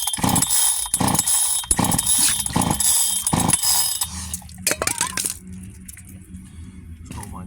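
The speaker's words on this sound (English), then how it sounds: "Goes my dog making a mess of everything." A dog noses through and knocks over objects, sending out a run of bright clinks and clatters, then scattered lighter knocks as things settle.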